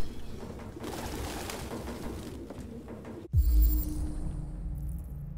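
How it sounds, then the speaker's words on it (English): Doves coo in the Detroit video game, mixed into a dense, steady wash of game ambience that shifts abruptly partway through to a quieter, more open backdrop. "That's a lot of doves."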